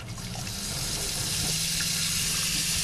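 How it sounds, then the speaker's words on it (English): Tap in a trailer bathroom running steadily, a continuous broadband water rush that stays even and close throughout with no pauses. "Running water."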